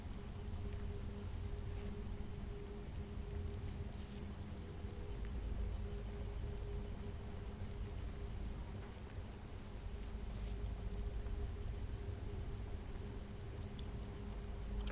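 Steady rainfall pattering on surfaces in the video game Tealerland, a constant, even hiss with a low droning hum underneath and no speech.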